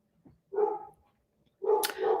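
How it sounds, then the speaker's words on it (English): A dog barks twice, a short gruff bark followed by another, somewhat muffled as if from outside. "Dog's barking outside, not Henry."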